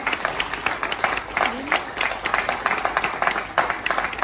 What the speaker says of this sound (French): vous pouvez m'applaudir